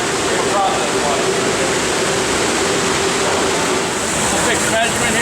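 Treated effluent water pours out at a water treatment plant, a loud, steady broadband rush of flowing water that continues without a break, close by.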